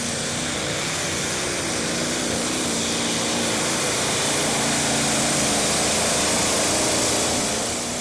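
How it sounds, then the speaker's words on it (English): A tractor-pulling machine with twin turbocharged V8 diesel engines at a Eurocup modified-class event in Brande, Denmark, roars in a loud, continuous, full-throttle drone that swells slightly before easing off at the end. "2 V8 turbocharged diesel engines on board."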